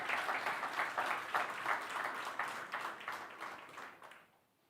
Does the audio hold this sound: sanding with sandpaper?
no